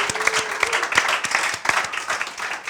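Steady applause from a crowd, with dense clapping and a few sharper claps standing out, continuing throughout.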